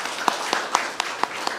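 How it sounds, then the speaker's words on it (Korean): Hands clap in a steady, evenly spaced rhythm, about four claps a second, in the room of a waste-resource energy policy and technology panel forum. "박수로 감사드립니다"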